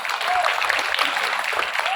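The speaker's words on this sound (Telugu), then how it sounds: "దీన్ని మీరు చప్పట్లు కూడా కొట్టాల్సిందే." An audience claps at a teacher's retirement farewell event, a dense, steady burst of applause from many hands, with voices mixed in underneath.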